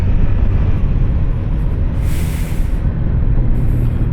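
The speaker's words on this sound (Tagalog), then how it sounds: "Ang dami ng lubak. Dami ng talbog na itong motor." A stock Yamaha Sniper 150 motorcycle jolting along a potholed road, its wind-blasted engine rumble loud and steady close to the mic, with a brief hiss of noise partway through.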